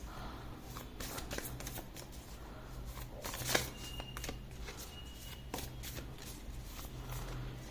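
Tarot cards being shuffled and drawn by hand, a soft continuous riffling with scattered light slaps and one sharper snap midway, fairly quiet and close, with no talking.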